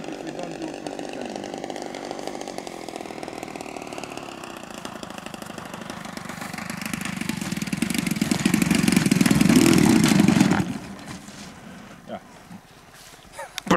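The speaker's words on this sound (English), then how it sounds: "I have got very low idle because of the landings" A small buzzing engine on a 2.5 m model airplane with a CDI ignition runs steadily at low idle, swelling louder for a while, then cutting off abruptly, leaving quieter background noise.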